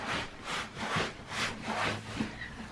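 Shiny, vinyl-like jeans fabric with a Simpsons print rustles close by in a rhythmic series of about five soft swishing rubs. No one speaks.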